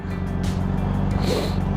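A car pulling up at a traffic light, its low engine rumble steady and close, with a brief breathy sound over it.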